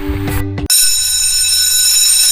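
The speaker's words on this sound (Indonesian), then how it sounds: "Astaga, alarm sudah berbunyi." A loud electronic alarm rings steadily and alone, a bright continuous high-pitched tone that starts abruptly after a brief burst of music and keeps sounding without pause.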